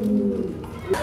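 Pigeon cooing at a Bangladeshi fancy pigeon and poultry farm, with a laying female close by. Low, steady coos run through most of the moment, then end in a short louder note.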